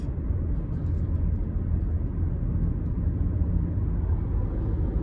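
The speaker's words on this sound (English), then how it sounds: "You got a helicopter going up there." A helicopter flies overhead in the evening above Bayshore Boulevard in Tampa: a steady, low rumbling engine drone, continuous and fairly distant, with broadband noise throughout and no voices.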